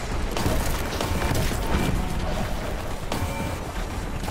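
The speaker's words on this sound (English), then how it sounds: "Oh, I'm gonna have to use the Grand Cannon on that guy." Heavy Grand Cannon blasts in Warhammer 40k Boltgun, loud booming impacts and crashing explosions layered over dense continuous game noise, with sharper bursts near the start and again after three seconds.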